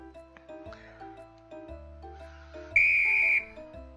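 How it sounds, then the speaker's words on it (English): A referee blows one sharp, piercing whistle blast lasting under a second, standing out loudly near the end over a soft melodic backdrop. "The referee blows the whistle"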